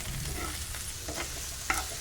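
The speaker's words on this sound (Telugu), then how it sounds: "ఆకంతా కూడా బాగా ఒక్కసారి కలిపేసుకోవాలి" Gongura leaves sprinkled with salt being mixed in a hot pan, a soft steady sizzle with a few brief scraping stirs, close but quiet.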